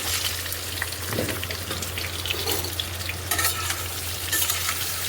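Potatoes frying and being stirred in a pan, giving a steady loud sizzle over a low hum, with scraping stir sounds throughout and no talking.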